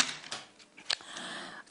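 Playing cards being shuffled by hand, a short papery riffle with a few quick flicks and snaps, close and faint, with no talking.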